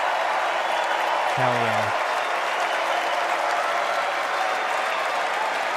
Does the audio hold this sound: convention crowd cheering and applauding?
yes